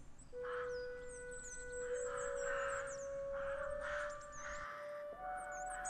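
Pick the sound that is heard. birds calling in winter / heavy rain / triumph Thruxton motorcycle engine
birds calling in winter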